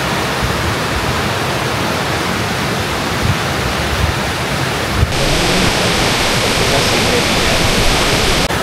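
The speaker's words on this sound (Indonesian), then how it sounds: "kita sampai di air terjun Grojogan Sewu" Grojogan Sewu waterfall at the foot of Mount Lawu in Tawangmangu roars as a steady, dense rush of falling water close by, filling the whole clip, growing brighter and louder partway through.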